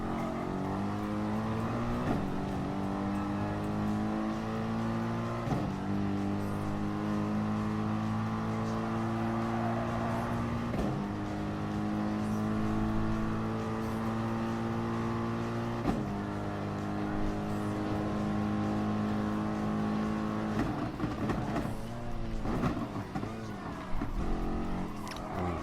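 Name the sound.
BMW M3 race car engine in video game Gran Turismo Sport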